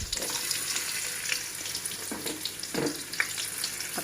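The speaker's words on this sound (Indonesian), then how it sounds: "Aku oseng ya, kayak menumis biasa aja pakainya." Garlic and shallots stir-fry in a hot pan with oil, a soft continuous sizzle broken by a few brief stirring scrapes, moderately quiet with no voices.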